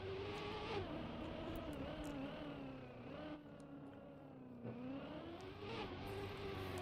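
A steady, continuous video-game car engine hum with slight pitch rises and dips as it revs, sustained throughout at a moderate level with no voices.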